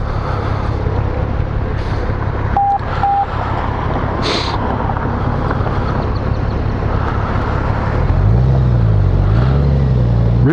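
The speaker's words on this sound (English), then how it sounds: "Really smooth engagement of the auto clutch. Really easy takeoff." A 2018 Honda Gold Wing motorcycle pulls away smoothly on its automatic clutch, a steady close engine drone under heavy wind rush that rises slightly in pitch and loudness toward the end.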